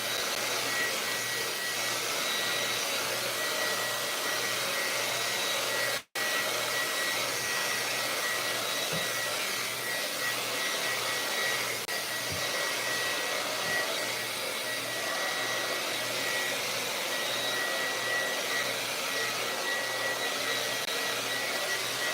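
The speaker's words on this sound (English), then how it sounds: "People hanging in there while I'm blow drying?" A hair dryer blows steadily and close by to dry a coat of paint, a continuous whooshing roar that runs for the whole stretch, broken by one brief dropout near the middle.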